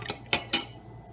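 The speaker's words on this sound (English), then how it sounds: "we're going to stir for about 30 seconds" A chemical solution for a clock reaction is stirred in water, with two sharp glassy clinks of the stirrer against the container and softer taps around them, close by and brief.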